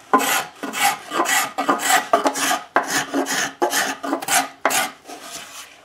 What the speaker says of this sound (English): Now I'll use some scrapers to smooth out the rasp marks and then finally sand it